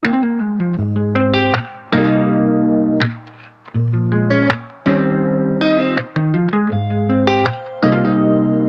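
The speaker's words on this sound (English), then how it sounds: "That tail is just like, it's a shimmer reverb." Clean guitar notes ring out in short phrases, each trailing into a shimmering, drawn-out reverb tail that hangs between the notes.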